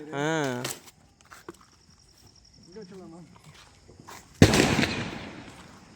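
A firecracker bursts with one sharp, loud bang during outdoor Deepavali festivities, followed by a crackling fizz. Someone speaks briefly beforehand, and there is quieter rustling and handling noise before the explosion.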